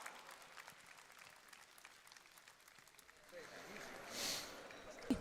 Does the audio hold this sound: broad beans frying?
no